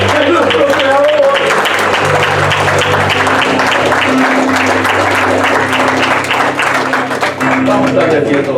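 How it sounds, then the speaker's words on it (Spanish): A church congregation applauding during a worship service, a sustained dense wash of clapping over several seconds with a voice speaking over it and music tones underneath. "le damos un aplauso al Señor"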